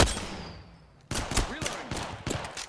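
Gunfire in a video game: a faint shot and tail at first, then after a pause a burst of loud, rapid shots in quick succession, close and sharp.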